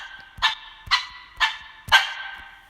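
A sampled dog bark from a GarageBand sound library plays four times at an even, steady pace, each sharp bark clean and isolated against silence, with no talking over it.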